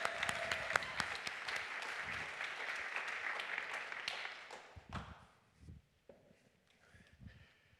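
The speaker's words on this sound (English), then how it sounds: "We can clap for that." Church congregation clapping during a Sunday service, a dense round of applause for about four seconds that thins out into scattered claps, shuffling and quiet rustling.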